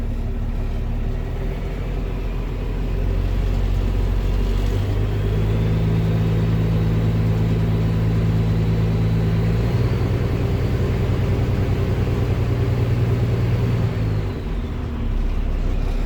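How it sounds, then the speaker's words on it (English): An old International dump truck with a power divider idles at an auction, a deep rumbling drone that rises to a steadier, stronger run partway through and then settles back. The engine sounds alone, with no talking. "Nice sounding old International truck."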